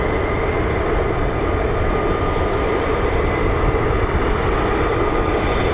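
A US Air Force F-15 fighter jet at RAF Lakenheath, heard as a steady, loud, broadband engine roar that holds constant throughout with no pauses or talk.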